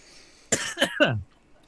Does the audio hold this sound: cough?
yes